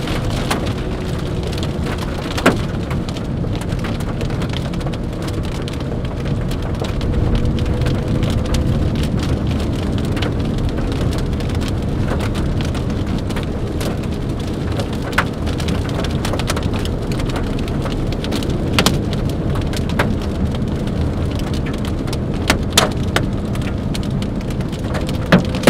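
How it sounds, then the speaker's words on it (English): Hail falls during a supercell storm in southwest Oklahoma, making a loud, steady drumming roar. Sharp ticks and pops of individual stones stand out over it, and no one speaks. "Just a little bit of hail."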